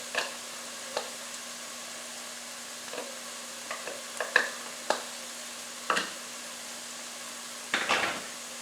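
Cinnamon stick and allspice cook in a pan for homemade tomato ketchup: a low, steady sizzle with a faint hum, broken by scattered light taps and scrapes of a utensil against the pan.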